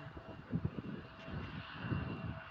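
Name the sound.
Embraer 175 airliner flying near Sofia Airport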